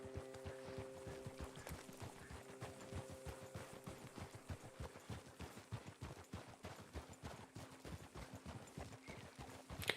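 Horse hooves clip-clop in a steady, even rhythm in the Red Dead Redemption 2 video game, close and clear with faint ambient sound behind.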